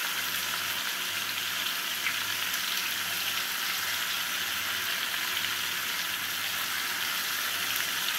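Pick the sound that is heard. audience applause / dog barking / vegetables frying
vegetables frying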